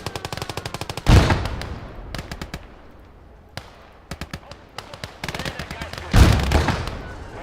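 In a World War II strategy video game, machine guns fire bursts at Russian infantry, with rapid rattling volleys and heavy blasts between sparse single shots.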